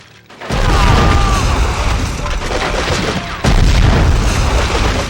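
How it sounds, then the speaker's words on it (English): A grenade blast in the video game Cold Winter hits as a loud sudden boom, then a long rumbling roar and a second heavy burst partway through, with no voice over it. "Not every game has grenades like this."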